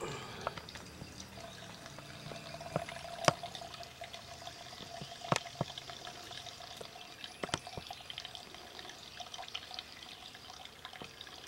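Water drips and trickles through a homemade survival water filter as murky water is poured in, with scattered sharp drops and splashes over a faint, steady background wash.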